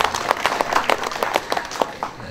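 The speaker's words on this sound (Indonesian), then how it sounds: "Tepuk tangan." A crowd applauds steadily, a fairly close wash of many hands clapping throughout the short moment.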